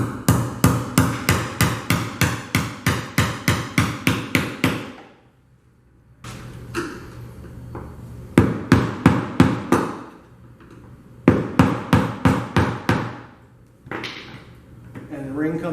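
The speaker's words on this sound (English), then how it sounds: "you need to have a little punch, and a hammer, and just kind of go around" Hammer driving a small punch to tap a compression ring off a 1993 Lincoln Mark VIII part: close, sharp metallic taps in quick rhythmic bursts of about a dozen strikes, separated by brief pauses.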